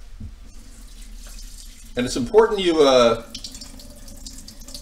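Tap water runs into a sink to rinse brown rice with filtered water, a strong splashing gush in the middle that stops abruptly, with a person talking over it.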